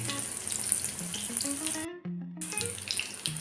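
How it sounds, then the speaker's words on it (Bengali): Pumpkin fritters (kumro bora) frying in oil, a steady close hiss and sizzle with a brief drop in the middle, no talking. "এবার এই পিঠটাও আমি 3 মিনিট মতো ভেজে নেব।"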